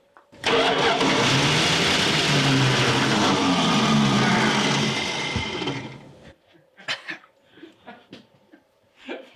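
A 1970 Dodge Charger that sat for 20 years cranks and fires, its engine roaring loudly and steadily for about six seconds before cutting out, followed by scattered clanks and short bursts of voices nearby.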